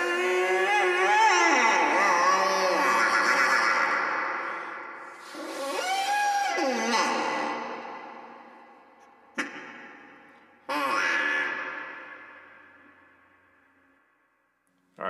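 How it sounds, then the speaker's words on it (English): An Acme duck call played in a slow, eerie way, giving long wavering nasal tones that bend up and down, followed by two sharp short blasts and one more drawn-out whiny call, close and alone. "This is a duck call."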